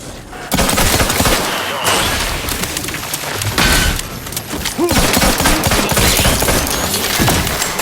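Sustained gunfire against robot mechs in The Outer Worlds 2, loud, continuous shots with sharp impacts and booms, a short pause early on and then steady firing throughout.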